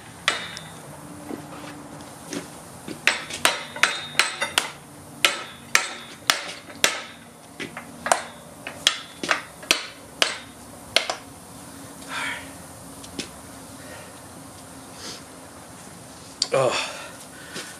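Sharp metal hammer blows strike the stuck U-joints of an F250 front axle shaft held in a vise, coming in irregular bursts of close, ringing impacts with short pauses between.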